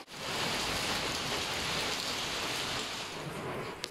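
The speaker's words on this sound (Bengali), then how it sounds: "তো বাইরে প্রচণ্ড বৃষ্টি হচ্ছে, খুব জোরে বৃষ্টি হচ্ছে" Heavy rain pouring outside during an early-morning downpour, a dense, steady roar of drops on surfaces that stays constant and fairly loud throughout.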